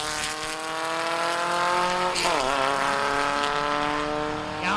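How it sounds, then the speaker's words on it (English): An Audi at a Volkswagen car show pulls away with a steady engine drone, its harmonics dipping and then climbing again as it accelerates, loud and close with no talking. "Audi starting to drive away"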